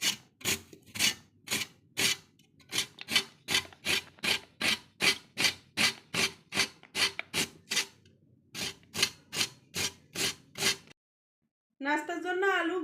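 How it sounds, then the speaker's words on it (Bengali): Raw potato rasped up and down the coarse side of a box grater for a breakfast dish, about two dozen steady scraping strokes in a fast, even rhythm, close and clear, broken by a short pause before a brief burst of voice at the end. "নাস্তার জন্য আলু কেটে নেব, এইভাবে গ্রেট করে নিতে হবে বড় পাশ দিয়ে।"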